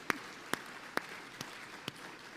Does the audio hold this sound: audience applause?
yes